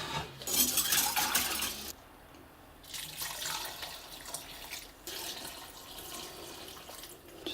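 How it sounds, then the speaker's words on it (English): Brine solution is poured over orange habanero peppers for pickling, with watery splashing and trickling in several bursts and short pauses, close up with no talking. "So the next stage is to put the brine solution on them."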